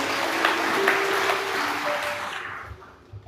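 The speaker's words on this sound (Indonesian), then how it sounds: "Boleh berikan tepuk tangan buat Tuhan Yesus" A church congregation applauds together, a dense wash of clapping that stays loud for about two seconds before thinning out and fading near the end.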